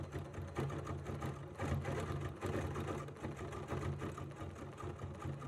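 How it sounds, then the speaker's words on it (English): A sewing machine stitches steadily over couched fibers on a quilted surface, a continuous close mechanical whir with a faint rhythmic pulse and a few brief pauses in speed. "And now we're just going to stitch over the couching work and make sure that all the fiber is secured."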